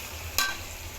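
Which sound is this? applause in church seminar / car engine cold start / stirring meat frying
stirring meat frying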